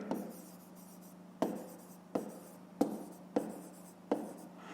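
Pen strokes on paper during a fifth-grade maths exercise, heard as six distinct scratchy bursts spaced roughly evenly, close and quiet over a steady low hum, with no talking.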